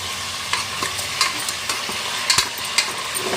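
Mutton pieces and rock salt are stirred in hot oil, with a steady loud sizzle and frying crackle throughout, punctuated by repeated scraping clanks of the spoon against the pan.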